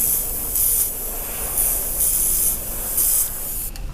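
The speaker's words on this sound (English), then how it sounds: "Then I'm going to go over a few areas with the airbrush again." Airbrush spraying paint onto a 3D-printed resin miniature, giving a steady airy hiss in repeated short bursts of roughly half a second, close and fairly loud with no talking.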